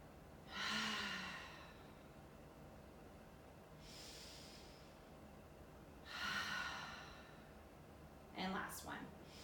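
Forceful breathy exhales during a Pilates core exercise, three or four strong puffs of air spaced a few seconds apart, close and clear over a quiet room.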